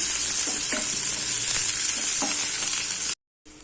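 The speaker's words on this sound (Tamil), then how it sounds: "ஒரு பெரிய சைஸ் வெங்காயம் இந்த மாதிரி பொடிசாக கட் பண்ணி வச்சுருக்கேன் அதை சேர்த்துட்றேன் இந்த வெங்காயம் கொஞ்சம் நல்லா வதங்கட்டும்" Finely chopped onion sautéing in a pan with fennel seeds, a steady close sizzle with a few soft stirring scrapes, cutting briefly to silence near the end.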